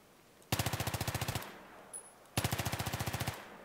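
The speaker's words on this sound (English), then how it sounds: "So let's start shooting at some walls" An M5K gun fires at walls in the video game Battlefield 3 in two sharp full-auto bursts of rapid, evenly spaced shots, each a little under a second long. They are separated by a short pause with a faint click, and no voices are heard.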